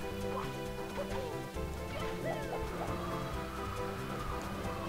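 Bird clucks and chirps from Super Mario 64 ring out in short repeated calls over a bed of game music, fairly quiet throughout.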